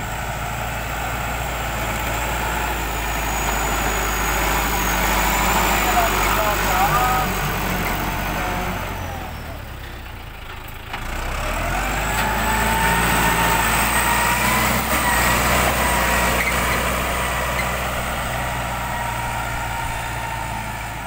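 A farm tractor idles with a steady low engine drone and a faint high whine, continuous with a brief dip midway, while someone talks over it.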